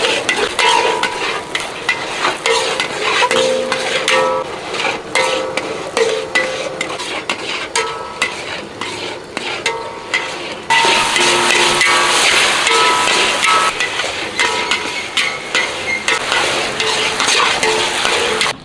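Chicken noodles stir-fried in a wok over high heat, with a loud, continuous sizzle and a rapid rhythmic clatter of a spatula scraping and knocking the metal pan throughout.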